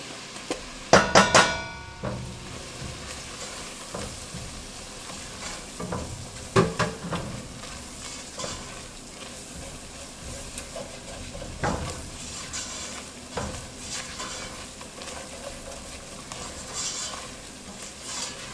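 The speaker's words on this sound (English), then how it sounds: "Give this a stir." Flour stirred into a frying potato soup base in a pot, steady soft sizzle with scraping spoon strokes and a few louder clanks against the pan, moderately close.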